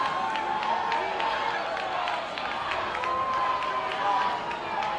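A large crowd at a university rugby match at the London Varsity Series, a continuous loud roar of cheering and shouting with scattered clapping and whoops, mixed with a commentator talking over it.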